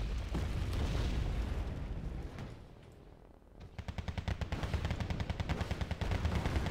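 Anti-aircraft guns fire at a Longbow helicopter in Wargame Red Dragon, first a loud rumbling boom, then after a lull a rapid, steady stream of sharp bursts that grows louder toward the end.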